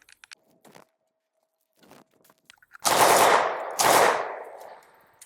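An Uzi submachine gun fires two short, loud bursts outdoors at close range, each ending in a decaying echo, after a few scattered clicks and handling noises.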